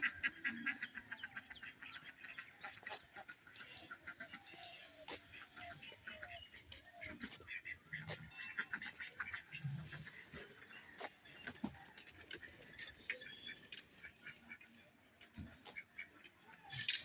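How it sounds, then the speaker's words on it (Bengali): Ducks by a river, three females and a male, giving repeated honking quacks and occasional hissing at moderate distance, irregular calls scattered over a quiet outdoor background, no talk. "ওই যে প্যাক প্যাক করছে এগুলো মেয়ে"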